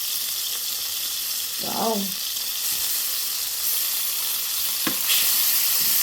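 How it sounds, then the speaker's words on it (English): Butter melting in a pan gives a steady frying sizzle throughout, with a short spoken exclamation and a light clink partway through. "I'm going to be melting 2 teaspoons of butter."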